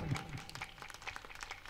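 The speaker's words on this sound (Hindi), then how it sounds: "आप लोग जोरदार तालियां बजाएं" At an Indian poetry gathering honoring a chief guest, an audience claps in quick, scattered bursts, the individual claps faint and somewhat distant, forming a light, uneven patter.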